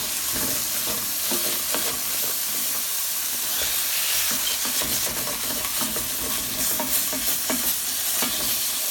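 Ground meat and sauce sizzle steadily in a hot pan while a utensil scrapes and stirs through it, a constant close frying hiss with small clicks and scrapes.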